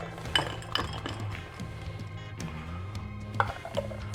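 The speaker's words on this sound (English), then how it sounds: "And then we're going to open pour the drink straight in." A Mai Tai is poured from a shaker into a hurricane glass, with repeated bright clinks of ice and glass over a sloshing pour, close and fairly loud.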